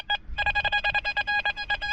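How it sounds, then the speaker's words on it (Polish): A metal detector emits rapid, pulsing electronic beeps in a quick stuttering sequence of about a dozen short tones, close and fairly quiet. "Tu mamy dwa sygnały."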